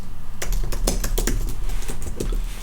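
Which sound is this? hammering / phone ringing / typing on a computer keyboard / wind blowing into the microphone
typing on a computer keyboard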